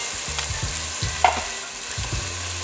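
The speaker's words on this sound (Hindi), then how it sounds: "अब इसको फ्राई करेंगे स्पाइसेस के साथ।" Chicken frying with ground spices and crushed red chilli for aloo murghi shorba, a steady sizzle broken by rhythmic stirring strokes and one sharp utensil clink, close and without talk.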